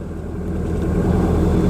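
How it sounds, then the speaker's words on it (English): A car engine runs smoothly after starting, a loud steady low rumble with an even idle throb and no voices. "A lovely smooth engine."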